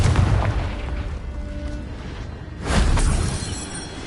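A Confringo explosion spell from Hogwarts Legacy goes off as a muffled booming blast with crackling debris, and a second burst swells a moment later.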